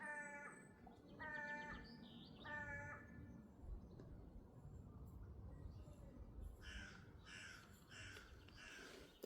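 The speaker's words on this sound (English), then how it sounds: "The birds are so loud." Crows caw in repeated harsh bursts, some nearer and some farther off, over a low background rumble.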